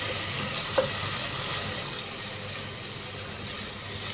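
Whole spices and a chicken stock cube are stirred in a pot, giving a soft, steady bubbling sizzle with a faint clink near the start and no talking.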